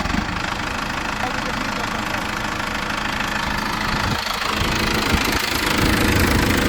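A self-driving tractor works a field with its diesel engine running, a loud, steady, rough drone that stays even throughout with a slight rise toward the end.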